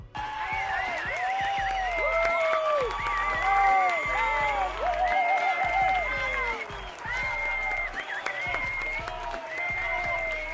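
Applause sound effect of a cheering crowd, loud sustained clapping with whistles and shouts throughout, played during a live forex day-trading stream.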